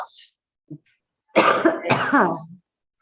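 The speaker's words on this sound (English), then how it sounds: "I would like you to cough" Two rough, forceful coughs in quick succession, close by, after a moment of near silence.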